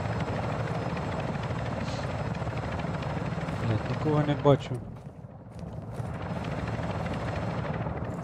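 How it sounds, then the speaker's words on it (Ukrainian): A helicopter in the video game Call of Duty Modern Warfare II hovers with a steady, loud rotor roar, briefly dipping midway while a voice speaks over it and footsteps and gear rustle. "Oznaczam helikopter do eksfiltracji."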